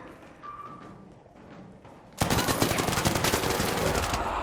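Arc Raiders gameplay: after two seconds of quiet background, loud sustained automatic gunfire erupts and keeps firing rapidly to the end, close and dense.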